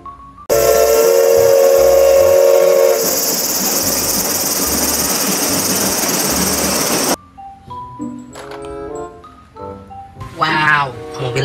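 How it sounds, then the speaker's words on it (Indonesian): A toy Thomas steam train sounds a loud whistle, then settles into steady chugging engine noise for several seconds before cutting out, with someone talking afterward. "Kereta Thomas."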